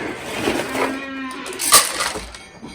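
Jersey cows on a grass-fed pasture herd moo twice in a row, nearby and fairly loud, with a low drawn-out lowing call and faint farm noise around it and no voices.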